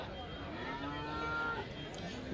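At a Sunday cattle market in Chintamani, a cow gives a single long, sustained moo close by, with the steady murmur of the market underneath.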